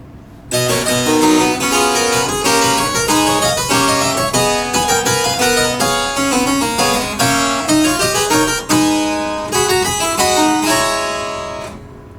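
A harpsichord plays an excerpt of a Bach fugue in crisp plucked notes. The lines are dense and busy with many quick attacks, loud and close, and no voices are heard.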